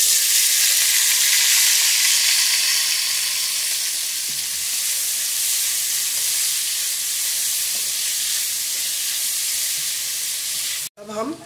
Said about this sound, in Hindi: चार मैंने प्याज ले लिया, अब इनको भी हम फ्राई कर लेंगे।